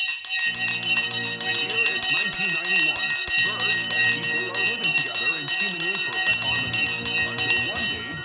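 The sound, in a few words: stock market opening bell ringing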